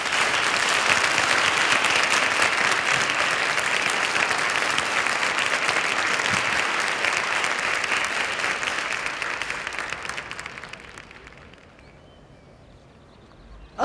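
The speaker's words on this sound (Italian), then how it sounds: "Un grande applauso per Nives!" Dense, sustained applause from an audience at an Italian short-film event, loud and steady for about eleven seconds before thinning out and fading to a quiet tail.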